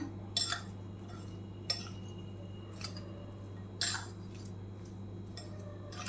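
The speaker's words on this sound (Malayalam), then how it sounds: "നമുക്കിനി ഇത് എല്ലാം കൂടെ ഒന്ന് നല്ലതുപോലെ മിക്സ് ചെയ്ത് കൊടുക്കാം" Boiled egg salad ingredients mixed in a bowl, with sparse sharp clinks of a utensil against the dish over a steady low hum, faint and unhurried.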